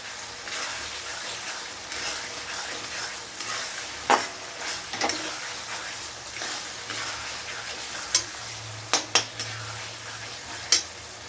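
Whole chillies fry in oil beside browned potatoes for a fish curry with pointed gourd, giving a steady sizzle with scattered sharp pops and utensil clicks close by.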